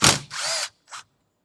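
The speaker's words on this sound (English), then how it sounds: "So normally I will take 2 of the bolts off" A power drill spins bolts out of a car door mirror on a 2024 Buick Envista, two loud close whirring bursts followed by a shorter third spin, then silence.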